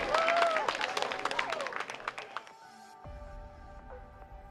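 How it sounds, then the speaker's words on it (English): An audience at a One Cure Live event claps in welcome for a performer, a dense burst of applause that thins after about two seconds, leaving a faint room tone with a steady hum. "Big round of applause."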